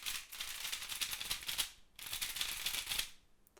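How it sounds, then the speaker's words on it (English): Clicky turning of a Moyu Pyraminx puzzle, two dense bursts of rapid plastic clicks separated by a short pause, close and fairly quiet with no talking. "it has very clicky turning, and you can even hear that while the puzzle is turning"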